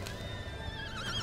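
Horse neighing in The Legend of Zelda: Breath of the Wild, a single whinny with a wavering high tone over a low rumbling game backdrop, heard alone without talk.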